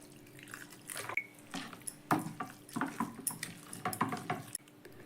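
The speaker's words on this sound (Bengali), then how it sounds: "জলটা কিন্তু আমি বারে বারে অল্প অল্প করে দিচ্ছি" Water trickles and drips in short bursts as it is added little by little to a semolina batter in a home kitchen, with soft splashes and stirring between the pours.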